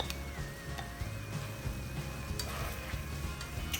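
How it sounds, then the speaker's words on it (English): Zucchini, tomatoes, corn and noodles fry in a pan while being stirred, giving a steady close sizzle with scraping stir strokes and a faint high whine in the background, with no speech. "I'm gonna stir everything together"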